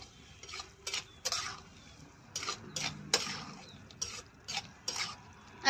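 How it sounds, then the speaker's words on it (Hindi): A spoon scrapes and clinks against a pan in irregular strokes as chana dal (split chickpeas) is stirred with spices, with a faint sizzle underneath. "अच्छे से करते हैं इसको मिक्स"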